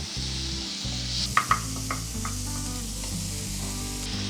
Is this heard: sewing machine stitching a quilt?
no